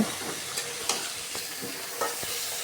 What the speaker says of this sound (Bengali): এখানে কিন্তু শুধু আমটাই তেলে দিচ্ছি